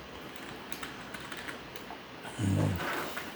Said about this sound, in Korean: 그래서 위치에다가는 이 현장명을 치시면 돼요.